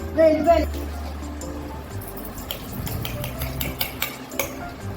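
Cumin and fenugreek powder get stirred into Andhra-style mango pickle with a metal spoon, giving repeated scraping and clinking against the vessel that grows busier after an opening clatter; a voice talks in the background.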